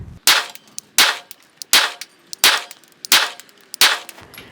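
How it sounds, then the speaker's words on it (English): A Glock 42 pistol fires MagTech ammunition, with seven loud, sharp shots spaced at a steady, fairly quick pace and short echoing tails between them. No one speaks. "Let's go ahead and shoot a couple more mags and see if we can't be more consistent."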